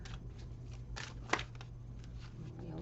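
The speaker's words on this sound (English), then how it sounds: "We'll give another quick shuffle here of the Rider-Waite deck." A Rider-Waite tarot deck is shuffled by hand in a quick riffle of soft papery flutters and a sharp card snap midway, close and quiet over low room hum.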